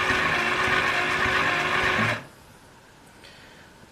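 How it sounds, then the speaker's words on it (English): DarkStar solar tracker secondary motor on a bench driving to its park position, a steady loud whirring hum lasting about two seconds, then cutting off abruptly into near silence with a faint click near the end. "after this east return, the secondary motor will go to its configured park position"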